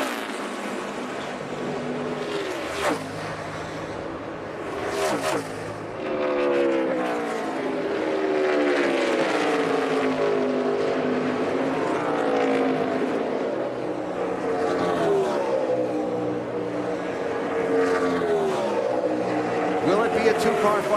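NASCAR Sprint Cup stock cars race at Indianapolis in 2014, their engines a sustained, loud wavering roar with rising and falling pitch sweeps as cars pass. Commentary talk runs over the engine noise throughout.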